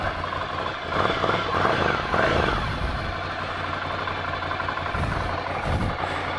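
A 2017 Ducati Scrambler Cafe Racer motorcycle engine idles nearby with a steady, rough rumble and light mechanical clatter that swells briefly now and then.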